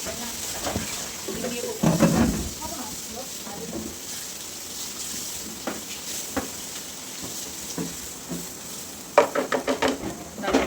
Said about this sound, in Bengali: ভালোভাবে ভাজা ভাজা হয়ে এলে